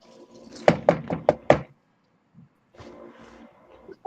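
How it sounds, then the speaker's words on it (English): Four sharp knocks on a wooden door in quick succession, loud and close, played as a sound effect during a tabletop role-play session, followed by faint murmuring and shuffling. "You hear a knock on the door."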